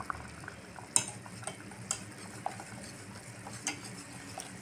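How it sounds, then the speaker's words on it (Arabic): Béchamel sauce is stirred in a pan, quiet soft scraping and swishing with a few light clinks of the utensil against the pan at irregular intervals. "كنبقاو نحركو بحال هكا حتى كنحصلوا على القوام اللي بغينا"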